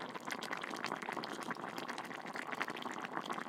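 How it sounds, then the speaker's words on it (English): Hot pot broth boiling hard, a steady, dense bubbling and hissing that stays close and fairly loud throughout, with no talking over it. "Oh, listen to that boil."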